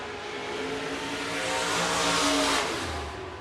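Sportmod race car cornering at Buena Vista Raceway, its engine note rising and swelling as it passes close by, then falling away, with a brief low burst near the end.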